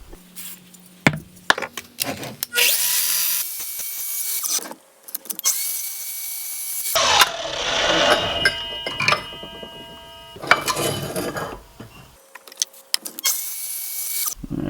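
A power saw cuts a metal piece during a car build, in several loud bursts of grinding, whining cutting separated by quieter pauses and tool handling noises.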